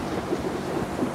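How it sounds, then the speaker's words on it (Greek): Tropical rain pours steadily on a boat travelling down a river in Borneo, Kalimantan, a dense, even hiss of water with a low rumble underneath, heard up close for a brief moment. "Έχουμε φάει μια τροπική βροχή ενώ πηγαίνουμε μέσα στο Βόρνεο"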